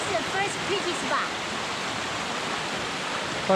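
A waterfall along a mountain trail in Colorado roars as a dense, steady broadband rush, close and constant, with faint voices under it.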